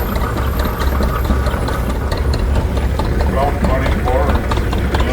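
A little two-cylinder tractor engine runs steadily at a summer show parade, a dense continuous rumble up close, with voices faintly underneath.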